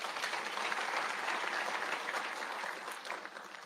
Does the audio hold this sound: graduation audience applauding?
yes